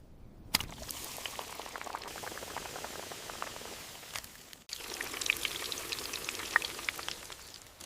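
Oreo cookies deep-frying in hot oil, a steady close bubbling with fine crackling pops and scattered sharp spits, one brief interruption midway before the fizzing resumes, no voices.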